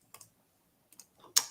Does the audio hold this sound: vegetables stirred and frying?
no